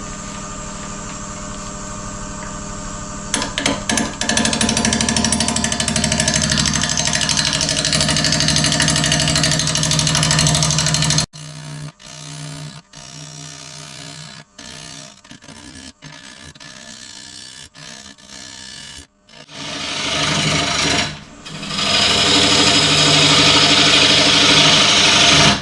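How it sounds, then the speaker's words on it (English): A beech yarn bowl is turned on a wood lathe with a sharp 3/8 Robert Sorby bowl gouge, producing a loud, steady whirring cut that breaks into stuttering, intermittent passes midway before resuming its continuous drone. "So I'm just going to use the 3/8 bowl gouge."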